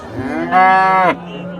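A dairy cow over 1.15 m tall at a cattle market lets out a single loud, drawn-out moo, close by, against quiet ambient noise.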